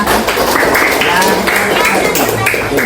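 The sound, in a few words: class clapping hands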